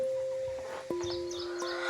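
A crow caws a few times, harsh and fairly close, over a steady low mechanical hum.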